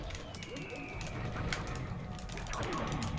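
Pigeon or dove coos from Side By Side: The Unholy War, a video game, soft and repeated over a dense, noisy game soundscape with other effects layered in.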